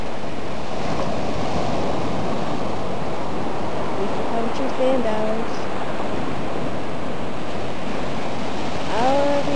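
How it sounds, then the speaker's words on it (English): Ocean surf roars steadily on a Florida beach at Fort Myers, a loud, continuous wash of breaking waves with wind buffeting the microphone, and a voice briefly speaking over it. "I had to get the roar of the ocean on our beach walk this morning."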